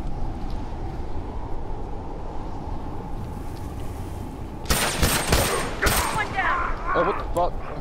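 Gunfire in a first-person shooter video game, bursts of loud rapid shots arriving partway through over a steady windy game ambience.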